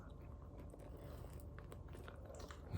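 A truffle bagel from London Bagel Museum is bitten and chewed in a quiet room, giving soft, close, moist chewing and squishing with a faint crunch near the end.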